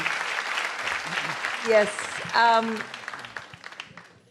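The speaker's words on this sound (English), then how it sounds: "We can give him a big round of applause" An audience at a stand-up comedy show applauds, a soft wash of clapping running beneath a voice that speaks over it.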